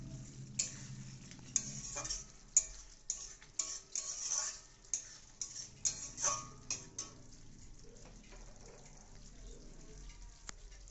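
Pieces of rui fish are slipped one by one into a hot frying pan for a Bengali rui kaliya, giving a series of soft taps and quiet sizzling bursts that fade into a low fry.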